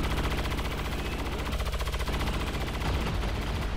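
Rapid overlapping gunfire from an overwatch trap in the video game XCOM 2 crackles in a dense, continuous burst that stays loud throughout, with no voices.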